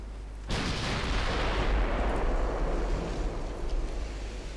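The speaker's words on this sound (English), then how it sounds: "Let's get another main gun salvo out for the" A main gun salvo fires in the naval warfare game Ultimate Admiral Dreadnoughts, one heavy booming blast with a long rumbling roar that slowly fades, loud and alone.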